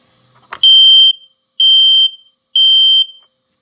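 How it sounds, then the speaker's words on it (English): Smoke alarm under test sounds three long, loud, piercing beeps of equal length with short gaps between them, after a brief click or handling noise at the start. "Bonus alarm test."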